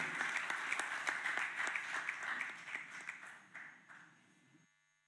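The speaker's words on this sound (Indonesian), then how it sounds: "Kita berikan tepuk tangan yang meriah, silakan di podium." Applause rises for a vice presidential candidate stepping up to a podium at an Indonesian announcement event, steady crowd clapping that thins out and fades away over about five seconds.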